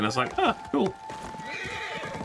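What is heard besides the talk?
horse neighing in video game Ghost of Tsushima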